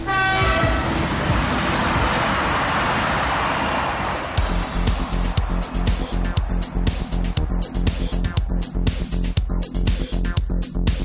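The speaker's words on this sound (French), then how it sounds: "un TGV franchit 89 mètres de rail par seconde" A TGV high-speed train on the Rhin-Rhône high-speed line races past at about 320 km/h, a rushing roar giving way abruptly to a rapid, loud clatter of wheels over the rails, with no voices.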